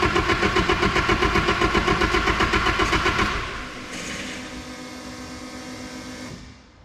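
SR20 engine in an S13 cranking on a start attempt, a rapid rhythmic starter chug for about three seconds, then a steadier whirring hum that fades out, heard up close.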